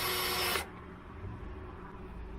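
A power drill drives bolts through a vinyl boat handle in a brief loud whir that cuts off sharply after half a second, followed by quiet background noise.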